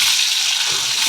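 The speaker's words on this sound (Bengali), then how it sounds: "পটলগুলোকে ভালো করে ভাজা করে নেবো" Pieces of pointed gourd (potol) sizzle and crackle loudly in hot oil, a steady close frying hiss throughout.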